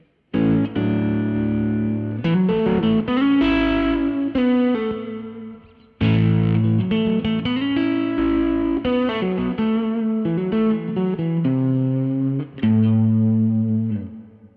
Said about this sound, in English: let me turn everything to 12 o'clock and then you can actually start to play a couple of bars